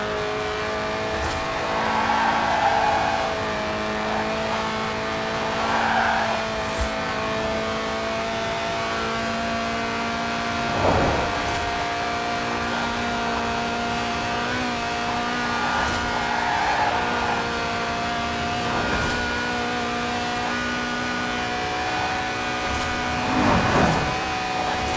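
A Lotus race car's 1.8-litre engine in Forza Horizon 4 holds a high, steady whine, revving up toward 8,000 RPM and easing off repeatedly, with tire squeals here and there.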